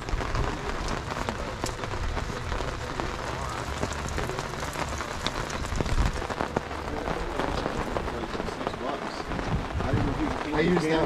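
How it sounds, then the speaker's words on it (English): Steady rain patters on a surface throughout, with faint voices and occasional crackles in the background. "It is raining"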